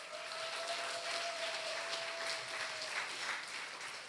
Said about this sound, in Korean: 큰 박수로 여러분 환영해 주세요